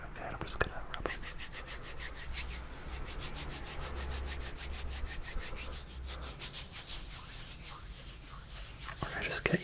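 Hands being rubbed together close up: soft, rhythmic swishing strokes repeating steadily, quiet and intimate, with a voice speaking softly under them.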